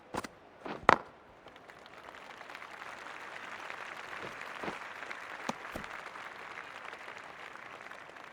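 Cricket crowd applause in the video game Cricket 24, a steady, fairly soft wash of stadium clapping following a few sharp knocks at the start, with no talking.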